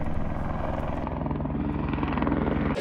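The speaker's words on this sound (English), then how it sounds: "Pretty soon there was a drone of a helicopter" Loud, continuous helicopter engine drone with rapid rotor thumping, steady throughout and very close.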